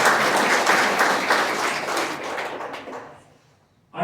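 Applause at a Chamber of Commerce annual awards dinner in Clay County, a full room clapping steadily, then thinning out and fading to near silence before a sudden sound at the very end.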